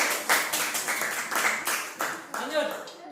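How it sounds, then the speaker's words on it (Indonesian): Classroom students clap their hands together in several quick bursts, a lively ragged patter mixed with voices chattering and calling out nearby. "beri tepuk tangan buat kita semua"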